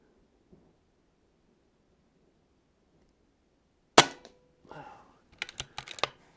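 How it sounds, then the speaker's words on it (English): An Air Arms S510 TC twin cylinder air rifle fires once at a target, a sharp close crack after near silence, followed by a few faint clicks and knocks of handling. "I'm going to just shoot the target to the left of the one I was just shooting."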